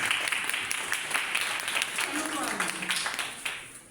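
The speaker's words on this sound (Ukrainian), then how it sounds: "Ми вам просто аплодуємо." An audience at a library portrait exhibition applauds a teacher, steady clapping that gradually fades out while someone speaks over it.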